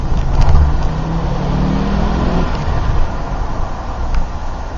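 An Audi 200 Quattro Turbo with its five-cylinder engine and a modified exhaust line accelerates, a loud close engine drone with rising tonal sweep early on, steady and dense throughout.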